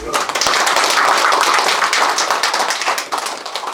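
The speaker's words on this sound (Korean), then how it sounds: "우리 공무원들 위해서 박수 한번 쳐주시고." Townspeople at a village meeting with the mayor in Janggun-myeon clap for local civil servants, a loud, dense burst of handclaps close by that holds steady and then tapers slightly near the end.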